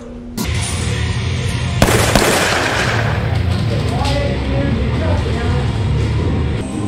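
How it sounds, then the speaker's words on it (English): A grenade explodes in a Scorpion shooting game, with a sharp blast early on followed by a second, louder burst and a long rumbling roar that stays loud throughout. Voices may be faintly mixed underneath. "Is that your grenade?"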